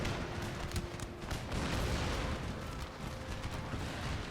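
Massed cannon fire in an Empire: Total War battle in India booms and rumbles without letup, heavy overlapping reports forming a loud, steady barrage across the whole stretch.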